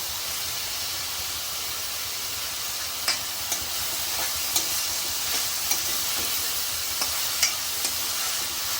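Curry leaves and green chillies dropped into hot oil while making methi bhaji, a loud, close, steady sizzle with scattered crackles and pops in the second half, no talking.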